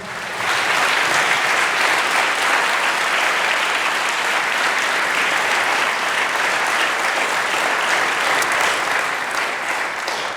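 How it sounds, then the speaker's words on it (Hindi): A church congregation applauds loudly and continuously for about ten seconds, a thick, even roar of many hands clapping together with no pauses. "यीशु के लिए जोरदार तालियां बजाइएगा"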